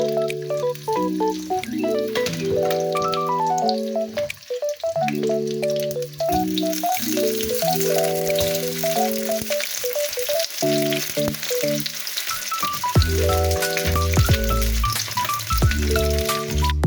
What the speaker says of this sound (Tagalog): Prito muna natin ng konti pa.